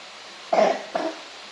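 Two short coughs from someone with a six-day cough, close to the microphone, the first stronger and the second lighter, with quiet room tone around them.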